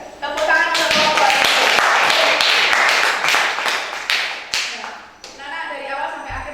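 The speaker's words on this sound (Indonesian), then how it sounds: "Tepuk tangan untuk kelompok" A classroom of children claps for a group in an Islamic studies lesson, a dense burst of many small hands lasting several seconds, close and fairly loud, then fading into scattered claps as a teacher's voice returns.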